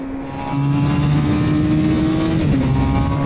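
Suzuki GSX-R600 motorcycle engine pulling hard in second gear, loud and close, pitch climbing steadily before a brief dip as it shifts toward third.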